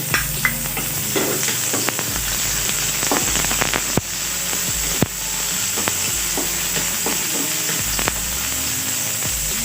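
Onions stirred in a pan while cooking Ilocano pinakbet: constant oily sizzling and frying with scattered crackles and clinks of a utensil against the pan, close and steady, no voices.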